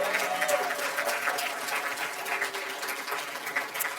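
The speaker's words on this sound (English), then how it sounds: "I want to ask our graduates to give a round of applause to the people that supported you," Graduates at a postbac premed class day ceremony clap in a sustained round of applause, a dense steady patter of many hands throughout with faint murmurs underneath.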